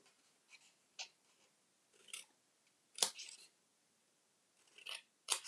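Scissors snip a bevel along cardboard gluing tabs while building a box for four Kinder bars, a handful of short, quiet, crisp cuts spaced irregularly with silence between.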